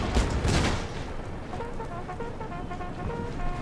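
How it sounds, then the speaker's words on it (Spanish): A burst of rapid gunfire volleys from the strategy game Empire: Total War crackles loudly at the start, then fades into a rumbling background with distant booms and a faint tonal hum. "Ahí llegan los disparos de Gus."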